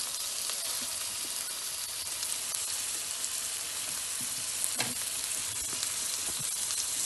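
Beef for a beef Wellington sears in a hot pan with a steady, even sizzle and a faint crackle, heard close and alone with no voices.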